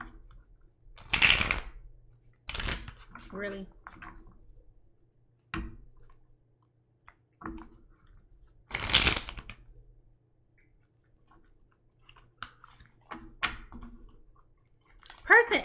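Tarot cards being shuffled by hand, slippery deck riffling in several short bursts separated by pauses, with a voice speaking briefly between them.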